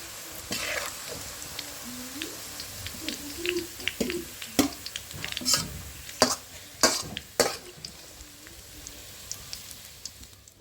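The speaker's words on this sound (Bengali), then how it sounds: "বেরেস্তা আমার ভাজা হয়ে গেছে, আমি তুলে নেব।" Beresta, thinly sliced onions for Kolkata-style chicken biryani, sizzles in hot oil with a steady frying hiss while a spoon scrapes and stirs, sharp metallic clinks and clatters rising as the browned onions are lifted out, no talk.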